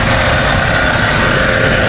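A 2021 single-cab pickup truck with a cargo box idles smoothly up close, a loud, steady engine hum and rumble holding even throughout with no talk.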